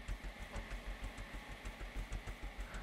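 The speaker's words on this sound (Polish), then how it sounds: "Aha, bo ten silnik wow!" An engine running in the Scrap Mechanic building game, a rough steady chugging with a fast regular pulse, moderately loud and continuous.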